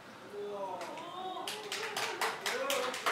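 Scattered audience clapping in a room during a press conference on mad cow disease, arriving in a few irregular bursts after a person's voice speaks at the start.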